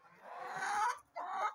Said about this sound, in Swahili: Unaona huyu jogoo huyu? Huyu ni jogoo wa saso.